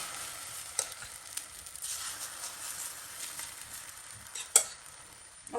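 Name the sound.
courgette roll frying in a pan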